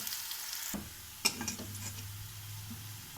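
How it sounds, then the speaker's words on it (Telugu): Besan batter poured into a hot pan for besan curry: a soft splat and a sharp clink of a utensil, then a quiet, steady sizzle with light stirring. "బేసన్ బ్యాటర్ ఇందులో వేసేసుకుందాము"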